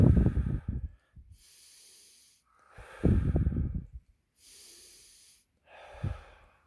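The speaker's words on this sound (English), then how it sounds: "They did 8 deep breaths through the nose and then out through the mouth." Deep breaths drawn in through the nose with an airy hiss and pushed out through the mouth in heavy, breathy gusts, about four slow cycles, close and fairly loud with no talking.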